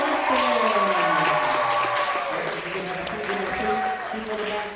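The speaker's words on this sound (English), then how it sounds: "How about a big round of applause for our work band?" Crowd applause and cheering for a band at a high school stage hypnosis show, heard under sustained tonal music or crowd sound, moderately loud and continuous.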